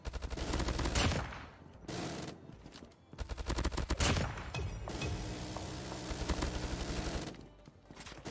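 A sentry gun fires in Call of Duty Mobile, rattling off loud rapid automatic bursts in long sustained volleys broken by short pauses.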